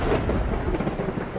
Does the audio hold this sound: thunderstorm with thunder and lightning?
yes